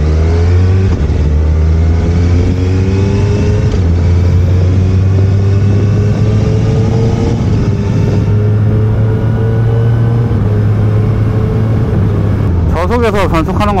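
A Suzuki Hayabusa motorcycle rides at low speed with its quickshifter in the city riding mode, the loud engine drone rising and stepping down through gear changes, steady and close throughout.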